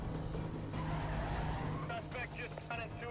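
Tires squeal and skid in the Wii racing game Need for Speed: Undercover, a screeching slide with engine noise under a steady game soundtrack, followed by several short bright metallic hits as the car crashes.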